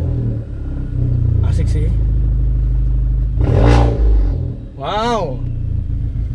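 Close, loud idling rumble of a VW Scirocco 1.4 TSI with a custom straight-pipe exhaust, followed by a sharp rev that rises and falls, with brief excited speech over the engine noise.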